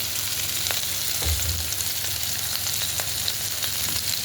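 Potatoes fry in a pan for a fish curry with okra, making a dense, steady sizzle with a few faint stirring knocks and no talking.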